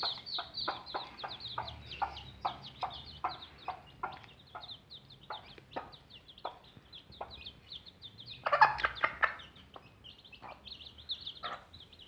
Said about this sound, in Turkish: Bakın şöyle bir sultan tavuğu aldık biz.